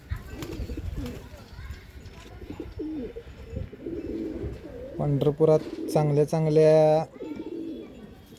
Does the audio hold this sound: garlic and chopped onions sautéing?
no